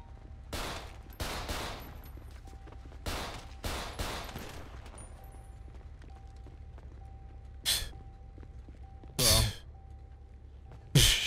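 Gunshots ring out in GTA 5 roleplay, several bursts of rapid sharp shots early on, then isolated loud cracks later, with players talking and gasping between them.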